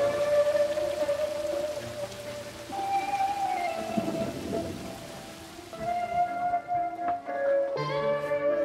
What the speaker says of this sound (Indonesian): Di luar hujan deras